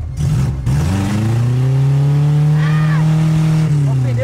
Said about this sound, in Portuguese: eu saí cantando pneu